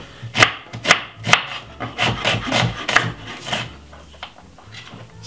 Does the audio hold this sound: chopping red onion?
yes